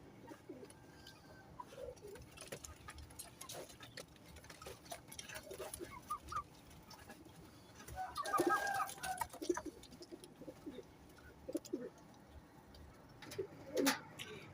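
Fancy pigeon breeds, including Teddy pigeons, coo softly with low throaty rolls, plus a few clucking bird calls, faint and intermittent over quiet room noise.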